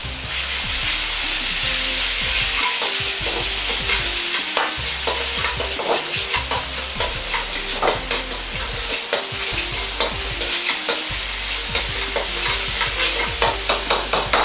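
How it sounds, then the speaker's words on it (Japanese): Doubanjiang chili bean paste stir-fried in oil for a spicy cabbage dish, a loud close sizzle with rapid, repeated spatula scrapes and clacks against the pan, broken by brief pauses, no voices. "炒めていると豆板醤が油を吸って余分な水分が抜けてきます"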